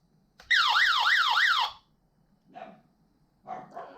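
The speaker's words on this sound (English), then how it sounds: "And so that is your emergency red flashing light, and not too bad of a siren." A Sunglife emergency hand-crank and solar radio switched to SOS mode blasts a loud, warbling siren that rises and falls in rapid sweeps for about a second, then cuts off, followed by a few quieter clicks and rustles.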